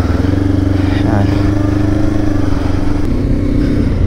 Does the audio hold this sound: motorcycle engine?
yes